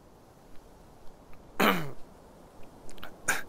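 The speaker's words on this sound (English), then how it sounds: "Sorry about that, I had to cough." A person coughs in short bursts, one sharp loud cough followed by a brief pause and a second cough, near and clear against a quiet background.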